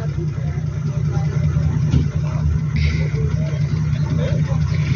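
A Toyota Land Cruiser 80 series four-wheel drive with lockers churns through mud, its engine holding a low, steady rumble with slight surges, heard close and continuous.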